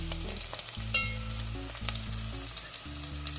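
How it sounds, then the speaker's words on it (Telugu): Baby potatoes fry in hot oil with a steady, close sizzle and crackle lasting throughout, over low sustained tones in the background. "ఇక్కడ పొటాటోస్ ఫ్రై అవుతున్నాయండి"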